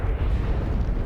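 A magic spell's explosion blows up a troll in the Hogwarts Legacy video game, giving a brief, dense, low booming rumble that stays loud throughout.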